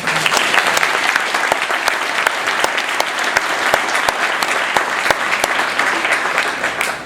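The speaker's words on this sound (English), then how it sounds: "How about an applause?" An audience honoring CPI graduates gives steady, even applause that fills the room for several seconds, dense and moderately loud, with no voices standing out.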